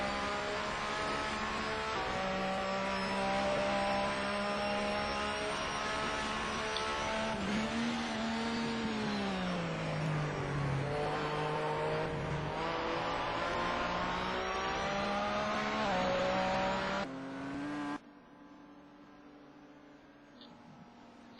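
A Porsche race car in a racing video game at Donnington, its engine droning steadily with rising and falling revs through gear changes, loud and continuous, then dropping abruptly to a quieter hum near the end.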